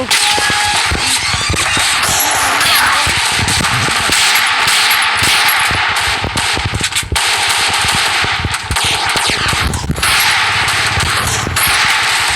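Video game gunfire rattles in rapid automatic bursts, loud and close, with short gaps between volleys and a constant background roar; no speech.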